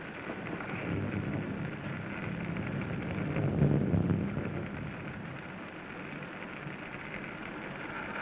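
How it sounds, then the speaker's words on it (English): Steady rain with a low rumble of thunder swelling in the middle, heard in a dark 1941 horror film scene, continuous and fairly soft with no voices. "It's raining."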